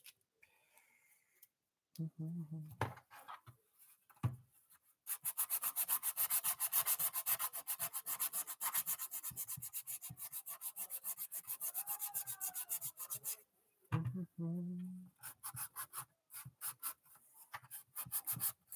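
Sandpaper rubs steadily to strip paint, a dry rasping scrape in long continuous bursts with short pauses between, fairly quiet and close, with a voice briefly heard at the edges.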